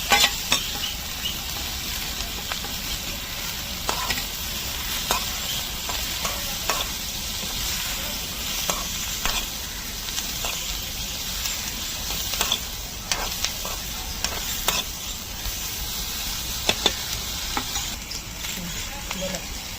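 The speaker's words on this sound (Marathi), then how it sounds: "तर आता शिमला टाकून घेऊया." Capsicum sizzling as it is stirred and fried in a pan for paneer chilli in a village kitchen, a continuous loud crackling hiss with regular scraping strokes of the spatula throughout.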